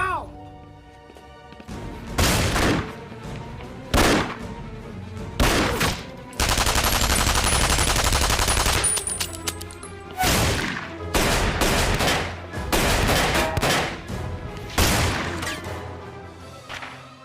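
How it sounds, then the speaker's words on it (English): Heavy gunfire in an action movie battle scene: bursts of automatic fire and sustained volleys crackle loudly, with crashes and thuds mixed in and a stretch of continuous shooting in the middle, set among soundtrack and battle noise. "We're taking heavy fire from both Daniels and Poplovsky."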